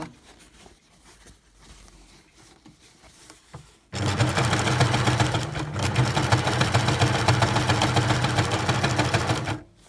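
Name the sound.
Baby Lock sewing machine stitching a seam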